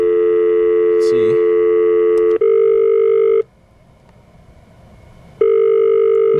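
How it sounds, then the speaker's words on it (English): A cruise cabin telephone on speaker plays a loud, steady dial tone nearby, with a brief cut and tone change, then drops to near silence before the dial tone returns. "if you press X, it just goes to dial tone"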